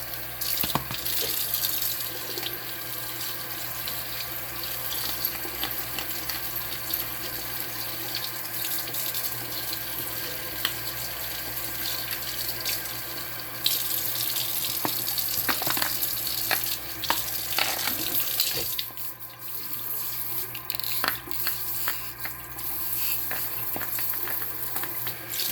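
A kitchen tap runs into a bowl as raw chicken is rinsed before being soaked in water and vinegar, a steady close splashing stream with a few brief clinks and shifts partway through.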